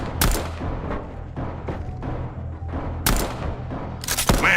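Gunfire in a Minecraft SCP Foundation game, a handful of sharp shots spaced out over a steady rumbling background, moderately loud, with a final cluster of cracks near the end.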